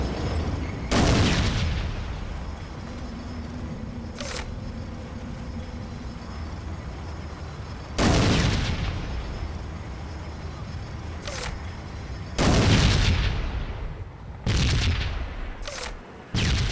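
Heavy tank cannon blasts and explosions in the Iron Storm war game, several loud booming bursts with long decaying rumbles between them, recurring irregularly over steady background noise.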